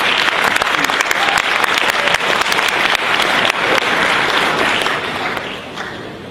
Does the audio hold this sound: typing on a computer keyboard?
no